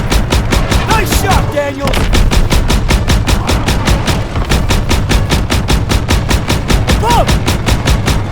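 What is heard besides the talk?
Stuka attack and gunfire in Call of Duty WWII video game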